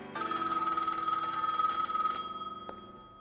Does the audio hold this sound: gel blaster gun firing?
no